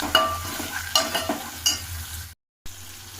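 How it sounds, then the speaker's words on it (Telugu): Tomatoes with curry leaves and coriander fry in a pan until soft, giving a steady low sizzle with a few louder scraping stirs. No one speaks. "అండ్ కొత్తిమీర ఇవన్నీ టమాటో సాఫ్ట్ ఉడికేంత వరకు ఫ్రై చేసుకోవాలి"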